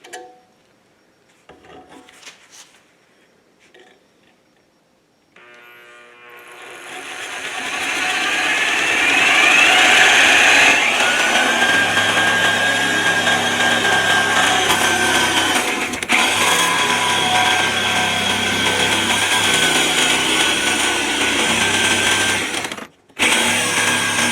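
A diamond cutting wheel cuts a metal cross member: a loud, sustained high-pitched grinding rises after a few quiet seconds and keeps going steadily with small shifts, briefly dropping out near the end.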